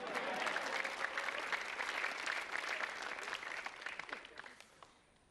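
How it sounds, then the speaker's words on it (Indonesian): A live audience at an Indonesian stand-up comedy show breaks into dense, sustained applause that holds steady for several seconds before fading out near the end. "Tepuk tangan buat saya."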